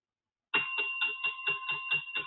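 A bell rings repeatedly in a quick, even rhythm of about eight strokes, bright and metallic with a sustained ringing tone, close and alone after a moment of silence.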